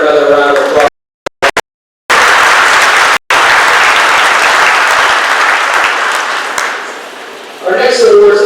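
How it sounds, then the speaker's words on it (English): At a 2021 senior recognition assembly, loud audience applause follows brief cut-off moments, holds steady as a dense wash of clapping, then fades, and a voice starts speaking at the end. "So let's give her another round of applause."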